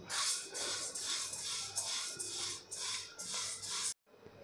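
Jowar (sorghum) grains dry roasting in a pan, a steady close scraping and rustling as they are stirred in repeated sweeps, stopping abruptly near the end.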